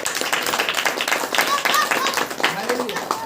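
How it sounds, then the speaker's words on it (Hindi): Congregation clapping hands in praise during a Saturday worship meeting, a steady run of claps across the clip mixed with voices and speech. "ताली बजाकर परमेश्वर।"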